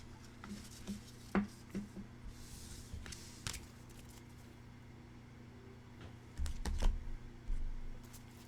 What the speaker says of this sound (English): let me go ahead and clear the cards